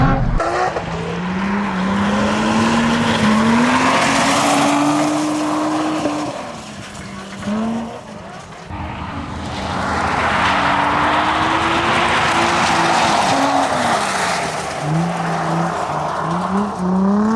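A drift car, the 350, slides with a loud revving engine and squealing, skidding tires, the roar swelling and dipping through linked slides, easing briefly midway before building again.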